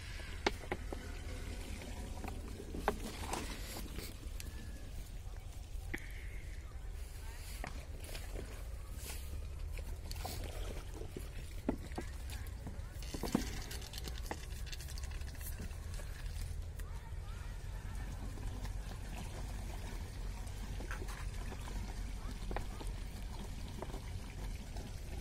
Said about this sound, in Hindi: देखिए इसमें हम पानी को अब डालते हैं